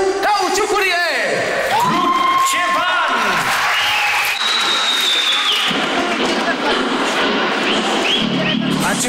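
An audience at a live improvised circus show claps loudly and steadily, mixed with cheers, whoops, shouting voices and whistle-like tones.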